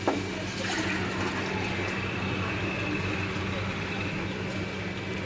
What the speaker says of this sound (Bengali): এখন আমি রাজমা সিদ্ধ করা রাজমাটা এর মধ্যে দিয়ে দেবো